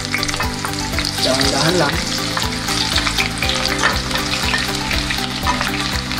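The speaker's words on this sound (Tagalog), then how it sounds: "So ngayon, mainit na yung mantika. Pwede na natin ilagay yung sibuyas." Chopped onions frying in hot oil for Filipino beefsteak (bistek tagalog): a loud, dense, steady sizzle with stirring scrapes throughout, and a brief spoken phrase over it.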